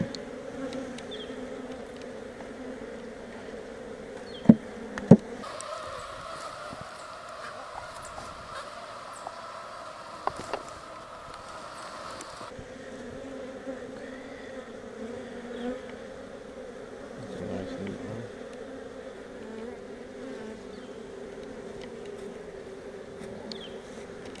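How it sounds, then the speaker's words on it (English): Honeybees buzz softly around a green hive during a nuc installation outdoors, a steady low hum with a louder buzzing stretch in the middle and a few sharp knocks early on. "Wait, a bee? There she is."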